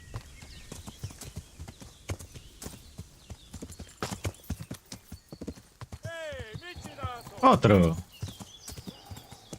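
Horse hooves clip-clop steadily in a video game, mixed with other game effects and a brief whinny, while a person talks over it.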